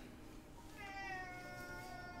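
A house cat meows in a rising, drawn-out call that starts about a second in and holds steady to the end, close to the microphone over a soft background hum.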